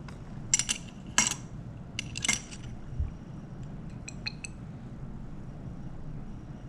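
Glass containers of simulated rainwater clink as they are stirred, several sharp light taps and chimes close by, then fainter tinkles over a quiet room hum.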